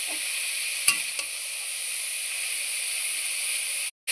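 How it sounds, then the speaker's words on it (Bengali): Carrot and beetroot fry in a pan with a smooth, even hiss, one sharp clack of a utensil early on, then steady sizzling that briefly cuts out near the end. "এবার আমি গাজর আর বিটটাকে ভালোভাবে ভেজে নিচ্ছি"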